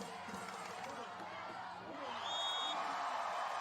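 Crowd at the beach volleyball gold medal final of the BPT Brasília event, Brazil against the Netherlands, a broad murmur that swells into louder cheering with a sharp whistle partway through.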